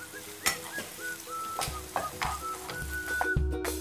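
Onion and two spoons of tomato paste sauté in a pan, with steady sizzling and scattered clinks and stirring scrapes alongside background tones and a faint electronic beeping.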